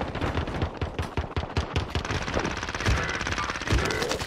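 Gunfire in the Warzone video game, likely from an AUG SMG: a dense run of rapid automatic bursts with sharp transient shots, loud and close throughout, with several layered weapons in a busy firefight.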